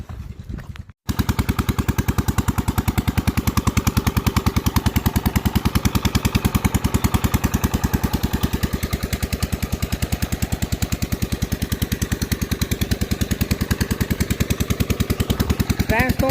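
A diesel engine driving a farm water pump runs steadily close by, its loud, rapid, even thumping continuing throughout after a brief quieter start.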